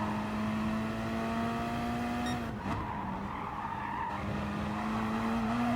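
A Gr.3 race car spinning at Brands Hatch in Gran Turismo Sport gives a loud, sustained engine drone broken by a sharp burst of tire squeal and skidding midway, then the engine note settles again.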